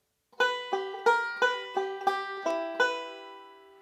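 A banjo picks a steady forward roll up the neck starting on the first string, eight bright plucked notes ringing in even succession, the last one left to sustain and fade.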